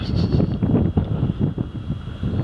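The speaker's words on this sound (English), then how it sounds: "Wind's eased off a bit." Strong wind on Campbell Island buffets the microphone in a steady, loud low rumble, gusting continuously with no voices.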